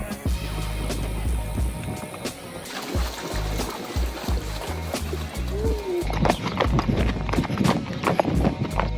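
Horse hooves clip-clop along a valley trail in Kyrgyzstan during a long horse trek, a steady close rhythm of hoofbeats mixed with rustling and outdoor noise, growing busier toward the end.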